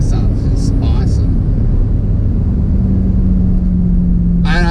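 A Jeep Trackhawk engine rumbles steadily while driving at speed, a low continuous drone under someone talking, with a rising whine near the end.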